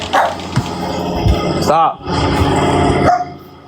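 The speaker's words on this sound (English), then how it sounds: "We can just hear the dogs barking in the background." Dogs bark and yip close by during a live talk stream, sharp repeated barks mixed with whines and growls, while a person talks over them.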